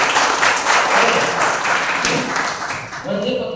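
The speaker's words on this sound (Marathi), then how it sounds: "पण मॅडमसाठी टाळ्या झाले पाहिजे" An audience at a business plan presentation claps loudly for a woman, a dense, sustained round of applause that fades slightly near the end as a voice begins.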